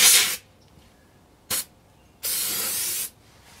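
Tire starter fluid sprayed from an aerosol can into a tire: three close, loud hissing bursts, a short one, a brief puff, then a longer steady spray of about a second.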